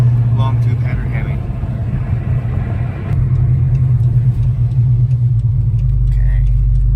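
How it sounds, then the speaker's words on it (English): A Hemi V8 car fitted with long tube headers rumbles while driving, a loud, deep, continuous exhaust drone heard from inside the car, with engine note shifting slightly partway through and no talk over it. "Can't go wrong with the sound of that long tube header Hemi."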